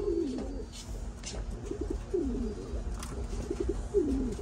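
Racing pigeons coo in a loft, with several low throaty calls repeating at intervals over a steady background.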